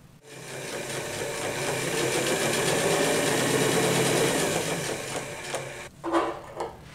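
Sewing machine stitches a seam on a pair of pants, a fast, steady mechanical whir that ramps up, holds for about five seconds and then stops, followed by a few short clicks and handling sounds.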